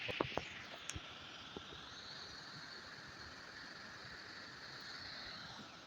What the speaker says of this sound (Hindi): ये झरना काफ़ी ऊपर से आ रहा है, ऊपर चोटी से आ रहा है झरना